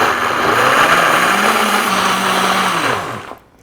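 A blender whirs steadily on medium speed, mixing cottage cheese pancake batter made with oat flour, cinnamon and salt; the loud continuous motor drone holds for about three seconds, then winds down and stops.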